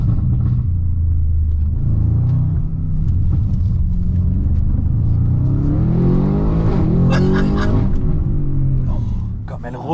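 Audi RS7-R ABT with a 740 hp engine and IPE exhaust accelerates nearby, a loud deep rumbling engine rising in pitch through revs, with people talking over it.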